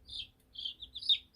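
Baby chicks peep in short, high, bright bursts, several quick calls in a row, close by and fairly quiet against a near-silent room.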